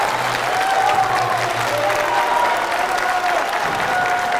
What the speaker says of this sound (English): Sorry, we all started clapping.